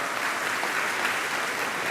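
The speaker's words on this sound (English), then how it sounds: "Give yourself a round of applause." A keynote audience at Workday Rising bursts into dense, continuous applause, a broad even wash of clapping hands filling the hall for a couple of seconds.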